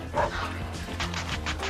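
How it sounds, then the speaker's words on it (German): Dog barking in the video game Sven Zwo, a few short yips and bow-wows over a low droning game soundtrack, fairly close and moderately loud. "Komm, Hund."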